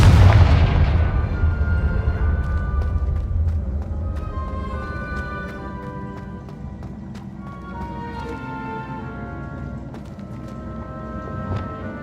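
Fire-spell blasts from the video game Hogwarts Legacy: a loud booming impact up front with crackling, ringing magical tones and scattered bursts that fade into layered game ambience.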